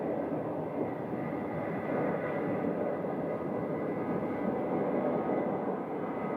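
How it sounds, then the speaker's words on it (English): An American Airlines Boeing 737-800 at Phoenix airport produces a steady, continuous engine roar, moderately loud and unchanging throughout, with no voices. "American 2074 to Indianapolis is a 737-800 right there"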